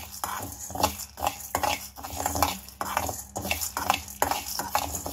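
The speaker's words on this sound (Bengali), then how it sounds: "ওই পর্যন্ত আমাদের নেড়ে নেড়ে একদম লো আঁচে ভাজতে হবে" Rice dry-roasting in a pan on low heat while being stirred: a steady rhythm of repeated scraping and clinking strokes from a utensil against the pan, close and moderately quiet, with a light sizzle underneath.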